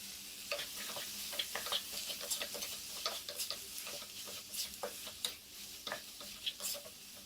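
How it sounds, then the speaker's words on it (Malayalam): Onions sauté in a pan for Kerala-style biriyani, giving a faint, steady sizzle with frequent light ticks and stirring scrapes at close range. "അപ്പം നമ്മുടെ സവാള പാകത്തിന് വഴന്ന് കിട്ടിയിട്ടുണ്ട്"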